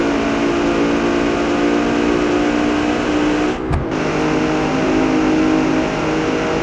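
A Ford Transit engine in BeamNG.drive roars steadily at high revs, dipping briefly for a gear change partway through before climbing back to a sustained loud drone.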